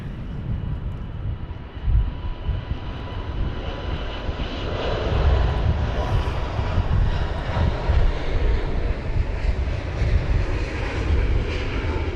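Loud, steady jet engine roar of an airliner departing London Heathrow during Storm Kathleen after an earlier go-around, swelling as power builds, with wind buffeting the microphone.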